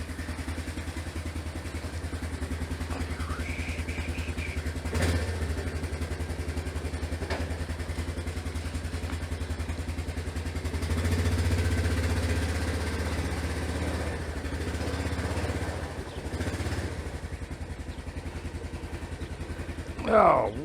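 A Yamaha Big Bear ATV engine runs during a ride, a low, fairly quiet chugging drone with small swells in revs and some rattling, faint speech-like sounds mixed in.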